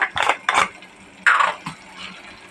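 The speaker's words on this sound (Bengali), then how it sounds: "একটু জল দিয়ে দিই, না হলে মুগের ডালটা সেদ্ধ হবে না" Water poured from a vessel into a pot of cooking moong dal, heard as a few short splashing bursts with brief gaps and a softer trickle near the end, close up and without talk.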